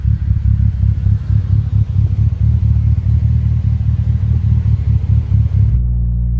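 Mitsubishi Evo engine with an aggressive cam idling, its loud, lumpy exhaust rumble pulsing steadily and close, then dropping to a smoother, quieter idle near the end.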